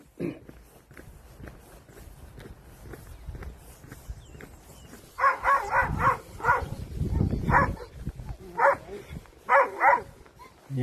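Dogs in a village bark in a series of sharp, repeated yaps, several in quick bursts and then spaced out, fairly close, over footsteps and background murmur.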